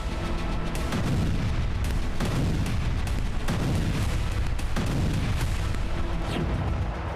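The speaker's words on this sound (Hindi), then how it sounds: "डोनेस्क के स्तारोमेयोर्स्की में रूसी सेना ने ग्रैड रॉकेट लॉन्चर से जबरदस्त तबाही मचाई।" Grad multiple rocket launcher artillery fire from Russian forces in Staromaiorske, Donetsk: a continuous, loud barrage of deep booms and crackling blasts rolling over one another, with sharper bursts punching through at intervals and no pause in the noise.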